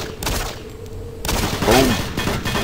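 Bursts of rapid gunfire from the first-person shooter Doom 3, sharp repeated shots clustered in quick volleys with brief gaps, loud and close.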